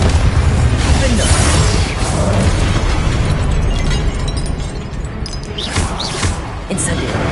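Game spell blasts, Confringo and Incendio, in Hogwarts Legacy: a continuous roar of fiery explosions and crackling bursts, loud and near, layered over each other for several seconds without letup.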